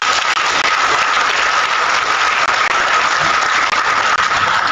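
Steady, dense applause from an audience after a training-day lecture fills the whole stretch, loud and continuous without a break.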